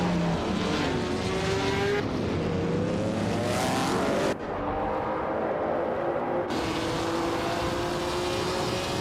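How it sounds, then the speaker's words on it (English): Racing cars roar continuously in a video game race at Anderstorp, the leader a classic 1961 Ferrari 156 F1, with engines whining and shifting pitch as they accelerate and pass, loud and dense throughout. "The race just kicked off at Anderstorp, and leading the pack is Bot Bucky Bird in a classic 1961 Ferrari 156 F1"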